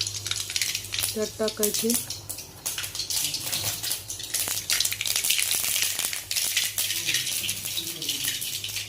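Mustard seeds and cumin crackle and sizzle in hot oil in a kadhai for an okra and green chilli dish, a steady close frying hiss with brief spits, while a person speaks briefly.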